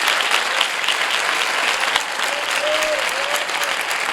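A church congregation at a youth camp sermon claps loudly and steadily, a dense continuous wash of applause filling the room, with a faint voice briefly rising above it.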